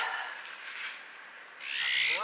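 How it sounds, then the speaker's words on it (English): An azure-winged magpie calls twice among olive trees, each a short, raspy, rising call heard alone at moderate distance, with a brief pause between them. "Azure-winged magpie, I believe, is its official name."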